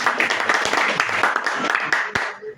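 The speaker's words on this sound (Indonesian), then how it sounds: "Haleluya, tepuk tangan untuk itu." A church congregation applauds during an Indonesian sermon, dense continuous clapping from a crowd, close and lively, tapering off at the end with voices mixed in.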